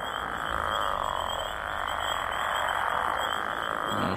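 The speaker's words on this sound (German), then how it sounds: "Schön viele Frösche" A dense chorus of frogs croaks steadily in the Gothic 2 mod video game, a continuous layered rasping drone inside a dark passage with no voices over it.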